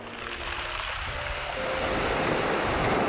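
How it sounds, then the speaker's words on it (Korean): Sea waves washing over smooth, rounded pebbles on a shingle beach at Gaedo island, Yeosu, giving a steady broadband wash that swells slightly louder partway through, with no voices. "파도가 칠 때마다 동글동글한 몽돌들이 부딪히며 내는 소리가 아름다운 곳입니다."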